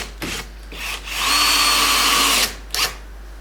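A power drill drives screws into glued-together wooden boards for a homemade air rifle stand, with short bursts followed by a longer steady whine, then a brief final burst, loud and close.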